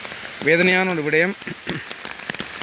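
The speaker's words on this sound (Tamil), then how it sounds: "கடுமழை பெய்ய ஆரம்பிச்சிருக்கு." Heavy storm rain in Chavakachcheri, Sri Lanka, makes a steady broadband hiss that keeps going beneath someone speaking close to the microphone.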